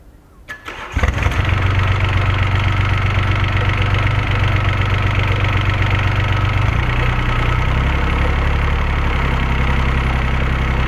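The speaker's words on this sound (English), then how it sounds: "This is the audio track of the engine running" A refurbished engine starts after a fuel metering adjustment and then runs steadily and loudly, with a constant low rumble. The pitch of the rumble shifts slightly partway through, and no one speaks.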